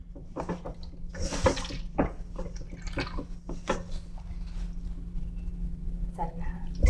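Water poured from a small vessel into flour for poori dough in a home kitchen, soft trickles and splashes mixing with faint bowl clatter and quiet background voices.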